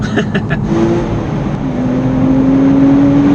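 A Porsche Boxster Spyder's engine drones steadily and climbs in pitch as it revs during a gear change, heard from inside the car with a brief voice near the start.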